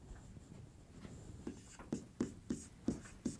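Hand-writing of math notes, with a pen scratching in quick strokes that turn into a regular series of firm taps and scrapes toward the end, close and quiet.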